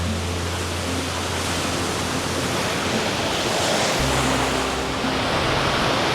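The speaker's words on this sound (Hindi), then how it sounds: "उस तरफ को अगर आप देखेंगे तो बड़ी ऊंची ऊंची लहरें आती है" Big ocean waves break continuously on the beach at Catherine Hill Bay, New South Wales, a loud, rushing roar of surf with coastal wind and no voices.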